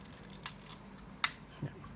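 A Minolta Hi-Matic 7s film camera's shutter being fired during testing after repair: three short, sharp mechanical clicks spaced apart, the middle one crispest, close by against a quiet room hum.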